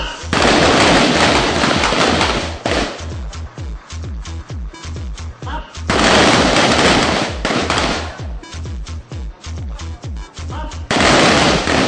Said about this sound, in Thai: ให้ยิงครั้งสองนัด